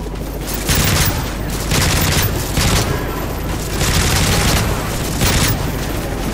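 Loud, sustained automatic gunfire from Call of Duty: Modern Warfare 3 rattles in repeated bursts over a dense, noisy battle background, with voices faintly beneath.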